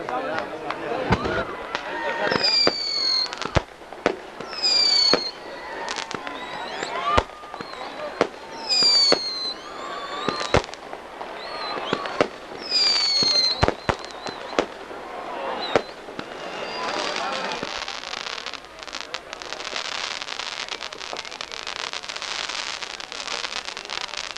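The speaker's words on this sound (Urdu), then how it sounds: "اب آتش بازی کا آغاز ہوا ہے" Fireworks burst again and again at an evening convention gathering, loud sharp cracks with rising whistles coming in irregular volleys over crowd noise, then trailing off into a steady background crackle and murmur.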